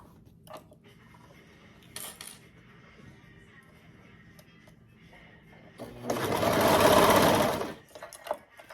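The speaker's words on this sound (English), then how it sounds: "I'm going to start sewing just a little bit past that underarm seam." A sewing machine stitches layers of fabric for a romper near the underarm seam, a loud, fast burst of whirring lasting about two seconds after quiet handling sounds and small clicks.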